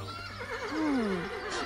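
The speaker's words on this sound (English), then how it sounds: "A horse?" A cartoon horse gives a single wavering whinny that rises and falls for over a second, heard clearly and alone.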